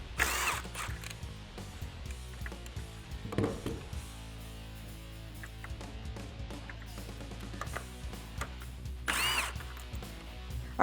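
A power drill or socket driver runs in bursts while removing 10mm nuts from the grille shutter assembly of a 2015–2017 Ford F150, with whirring and ratcheting mechanical noise, loud short spurts near the start, middle and end.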